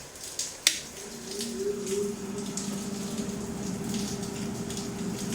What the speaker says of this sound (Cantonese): 抽風箱開咗機之後就呢個聲音啦。